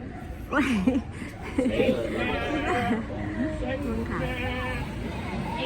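Sheep at a market bleat several times close by, wavering cries over a busy background of crowd chatter, and someone talks through much of it.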